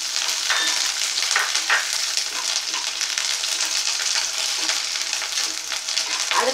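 Cashew nuts fry in hot oil for aval upma, with curry leaves already in the pan. A loud, continuous bright sizzle runs throughout, broken by occasional stirring scrapes and crackles. No one speaks.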